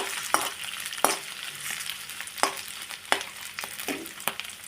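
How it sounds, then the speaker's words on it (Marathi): Boiled potatoes fry in leftover oil while being stirred, a continuous close sizzle broken by sharp, regular scraping strokes of a spatula against the pan. "आता मी उरलेल्या तेलामध्ये बटाटे फ्राय करते"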